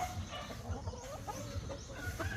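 Chickens and a rooster clucking and murmuring nearby in a backyard, a few scattered calls over low background noise; no clear crow stands out.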